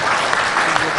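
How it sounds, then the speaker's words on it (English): Audience applause at a formal event with speakers and a moderator, a steady dense wash of clapping across the whole moment, fairly loud and even, with voices mixed in. "Give a big applause for all of us here."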